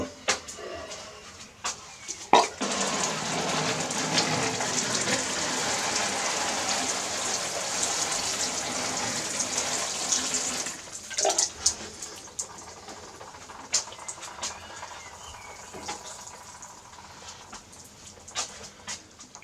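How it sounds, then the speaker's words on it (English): Water sprays from a watering can onto seed pots on an allotment, a hissing patter that lasts about eight seconds and then tails off into a few scattered drips and knocks. "So I'll just give them a quick water and fingers crossed they'll germinate."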